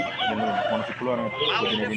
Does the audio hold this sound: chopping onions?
no